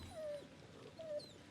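A stuck puppy in Resident Evil 7 lets out two short, high whimpers, close by, over a low murmur of game ambience.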